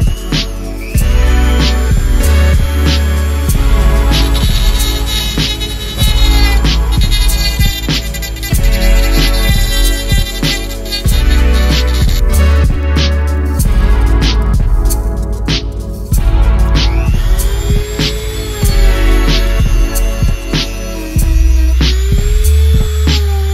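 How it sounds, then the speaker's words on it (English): A Dremel rotary tool with a high-speed cutter bit carves during a Subaru TGV delete, a continuous loud whining buzz that rises and dips in pitch as the bit bites, running almost without pause. "We're gonna use like a little Dremel tool with this bit."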